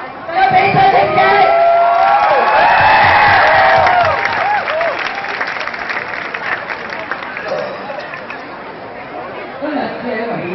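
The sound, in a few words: applause from crowd at student strike rally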